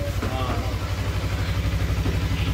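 A Suzuki Inazuma 250cc street motorcycle idles nearby with a steady, throbbing low engine pulse, while someone talks over it.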